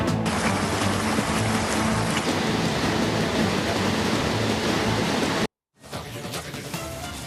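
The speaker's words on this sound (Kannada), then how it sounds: "ನದಿ ಮೈದುಂಬಿ ಹರಿದ್ರೆ ಸಮುದ್ರ ಭೋರ್ಗರಿತಾ ಇದೆ" Heavy monsoon rain pours and the sea roars along the Dakshina Kannada coast of Karnataka, a dense, loud broadband wash that cuts out abruptly for a moment and then resumes.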